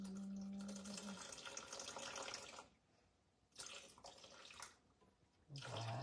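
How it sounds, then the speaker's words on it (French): Water runs from a tap into a bowl sitting on a kitchen scale, a steady splashing pour that stops twice and then starts again, close and fairly loud. "Et on va aller mettre de l'eau."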